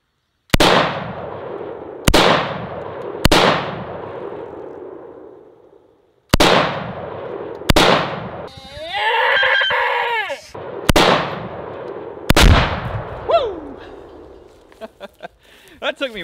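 Gunshots fired at a propane tank outdoors, loud sharp cracks with ringing decays, about seven shots spaced a second or more apart, with a brief rush of hissing between and a few fainter pops at the end.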